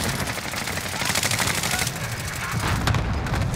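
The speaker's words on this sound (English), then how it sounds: "Allied cluster strike inbound." Cluster strike explosions in Call of Duty, a rapid rolling barrage of blasts and crackling detonations that continues steadily without pause.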